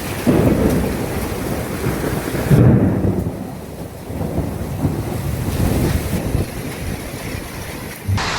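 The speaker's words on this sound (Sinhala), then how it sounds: "අයිස් කැට වැටෙනවා වහලුටට වැටලා බිමට වැටෙනවා" Hail drums steadily on a roof in a dense, continuous patter, with low rumbles of thunder rolling underneath throughout, in Doha, Qatar.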